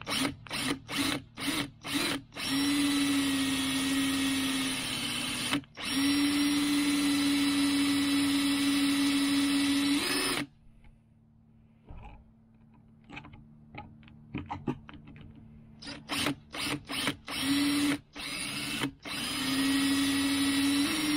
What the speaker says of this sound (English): find hole, drill hole.